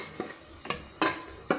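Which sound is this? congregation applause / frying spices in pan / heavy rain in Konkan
frying spices in pan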